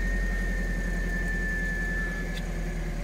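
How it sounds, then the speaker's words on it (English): A low, steady engine idle from an old Toyota MR2 running on old fuel rumbles evenly throughout, with a faint high whine running over the top and no voices. "It's actually idling all right, considering the probably crappy old fuel it's on."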